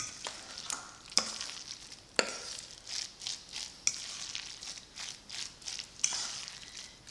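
Relish is stirred into a tuna and egg salad: soft, rhythmic scraping and squishing strokes, close and quiet, with no talking.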